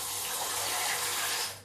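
Water pours steadily from a tap into a vessel for soaking cut eggplant in a home kitchen, a dense close hiss that holds even and tapers off at the end.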